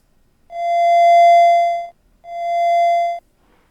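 Two steady theremin tones, a mellow triangle wave, each held over a second with a short gap between, clean and loud.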